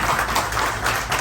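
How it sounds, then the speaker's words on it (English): Steady applause from an audience at a campaign kickoff event, dense continuous clapping held at an even level throughout. "let's give her another round of applause"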